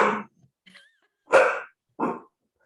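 A grumbly dog gives three short throaty growling grumbles, each under a second, close to the microphone, with small faint noises between them and quiet pauses after.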